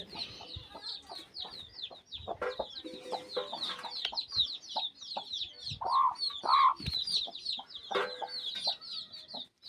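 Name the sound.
chickens clucking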